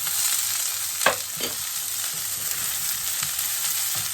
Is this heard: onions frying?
yes